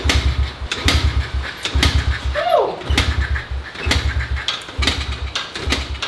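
A dirt bike engine starting and idling outdoors: rhythmic, pulsing low engine chugs repeat throughout, with a brief rising whine in the middle, loud and close.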